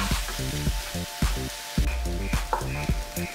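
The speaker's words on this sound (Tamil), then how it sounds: "கட் பண்ணி வச்சுருக்க 4 மீடியம் சைஸ் ஆனியனை ஆட் பண்ணிக்கோங்க. இதை நல்லா வதக்கிக்கோங்க." Four medium onions with curry leaves sautéing in a pan, a crackling sizzle broken by repeated rhythmic scrapes and knocks of a spatula against the pan, close and fairly loud.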